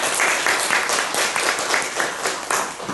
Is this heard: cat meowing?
no